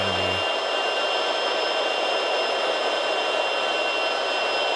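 A small airplane's engine drones steadily and loudly in the cabin after the throttle is eased back to 70 during a climb, a constant unbroken roar with no talk.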